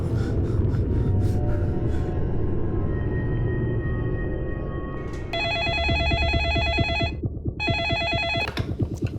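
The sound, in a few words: telephone ringing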